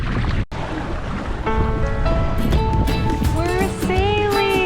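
A small Hobie Wave sailboat moves across the sea, with steady wind and water rushing close by and a sustained hiss throughout, while a tonal musical layer comes in partway through.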